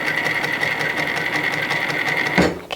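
A home sewing machine stitches fabric for a handmade doll, running in a steady, close whirring burst with a bright hum, then stopping abruptly with a short clunk near the end.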